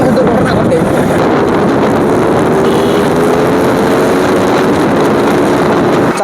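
Motorbikes pass close by in heavy traffic on a busy road, a loud continuous engine drone with one rising-and-falling whine as a bike rides past.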